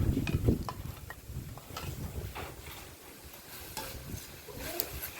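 Vegetables and fish balls being stir-fried in a pan, a few sharp scraping clatters at the start, then a soft continuous sizzle with occasional spatula knocks, close up.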